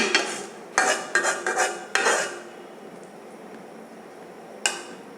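A pan of mola fish goes onto a gas stove with a few close metallic clanks and clatters in quick succession, then a quieter stretch and one last clank near the end. No one speaks.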